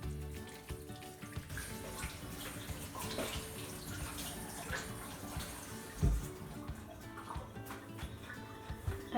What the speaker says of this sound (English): I'll need to wash my hand again.